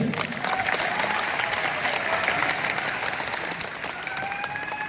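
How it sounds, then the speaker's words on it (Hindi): An audience at a network marketing business seminar claps steadily, a fairly faint, even wash of applause sustained for several seconds with no talk over it. "और एक बार ताली अपने लिए बजा लीजिए।"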